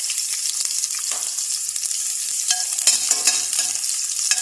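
Onion frying in oil in a pan for a watermelon-rind sauté, a steady loud sizzle with scraping stir strokes throughout, no talking.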